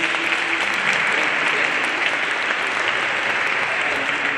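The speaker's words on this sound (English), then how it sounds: "Can we give them another round of applause?" An audience claps at a Vesak celebration in a dense, sustained round of applause that stays steady and loud throughout, with no single voice standing out.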